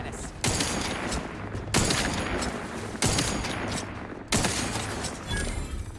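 Rifle gunfire in the video game Outer Worlds 2, four evenly spaced loud shots over dense ongoing combat noise.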